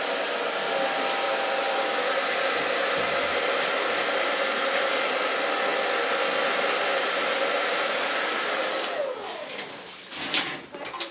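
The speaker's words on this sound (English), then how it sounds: "So far blow drying." A hair dryer blows steadily and close up while drying a curly asymmetric bob, then it cuts off near the end, leaving a few soft handling knocks.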